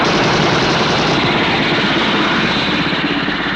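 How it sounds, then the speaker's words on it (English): A loud, steady roar of rotor and engine noise from a helicopter overhead, continuous and dense with no pauses or voices. "Destiny Angel, helicopter A42 is firing at me"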